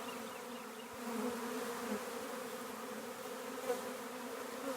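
A honeybee swarm drones around empty hive equipment in a continuous, dense buzzing hum that stays steady and moderately loud, with no voices.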